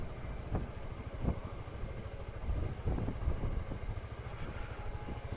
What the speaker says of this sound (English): It's quiet for a big scooter